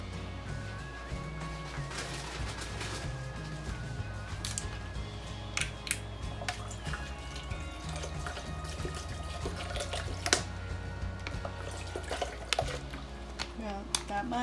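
Tap water runs steadily for several seconds while cheese chile rellenos are being cooked, a continuous close hiss of liquid with clinks and kitchen clatter over a low background hum, and speech faintly present.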